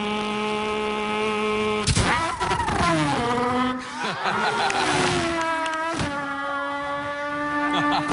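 A human voice imitating a race car, loud and close, with sustained revving engine tones, pitch sweeps like gear changes and sharp shifts, performed at a televised talent show.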